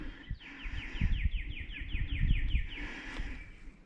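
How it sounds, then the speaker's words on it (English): Birds sing nearby in Iowa woods in a quick repeated series of high chirps, with rustling hiking footsteps and low rumbling noise underneath. "Can you hear all the birds?"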